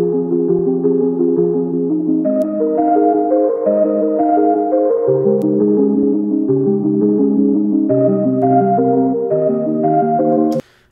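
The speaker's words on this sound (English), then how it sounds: "the first pattern that I started with is this pluck from Serum, and it plays a pretty simple chord progression" A Serum synth pluck in FL Studio playing a simple chord progression, bright plucked chords stepping through changes at a steady pace, clean and alone, cutting off abruptly at the end.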